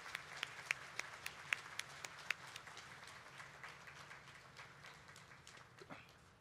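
A sparse, faint round of clapping from a meeting audience after a speech, with a few sharp individual claps standing out early, then a thin patter that fades away.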